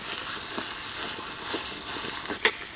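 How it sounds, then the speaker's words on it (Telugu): Ridge gourd peel chutney is stirred into a hot tempering of dried red chillies, curry leaves and asafoetida, giving a steady close sizzle and hiss broken by a few sharp spoon scrapes. "ఎండుమిరపకాయలు కరివేపాకు లాస్ట్లో కొంచెం ఎంగ వేసుకొని ఇదంతా ఒకసారి ఇలా కలుపుకొని మనం రోట్లో నుంచి తెచ్చిన బీరకాయ తొక్కు పచ్చడి ఇందులో వేసి"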